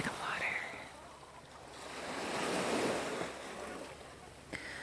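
Ocean waves at a beach, a soft continuous wash of surf that swells and recedes, heard under wind on the microphone with a faint whispered voice at the start and end.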